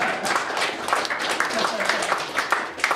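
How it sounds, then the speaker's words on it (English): An audience at a magic show in a small lounge applauds, a dense continuous wash of clapping that holds steady for three seconds. "Give them a big round of applause."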